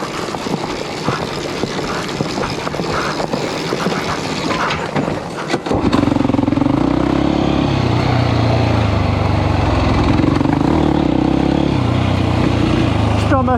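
A quad bike engine idles roughly, then abruptly revs up and holds a loud, steady droning roar, with someone talking hurriedly in French over it.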